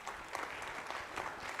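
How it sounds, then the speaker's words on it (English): Conference audience at a national cyber security conclave applauds the Odisha Cyber Cup, a brief, quiet spell of scattered clapping heard from a distance in a large hall. "a great, huge round of applause for the Odisha Cyber Cup"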